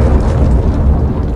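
A bomb goes off in Counter-Strike: Global Offensive, a loud, dense low rumble that fills the whole short stretch without a break and with no voices over it.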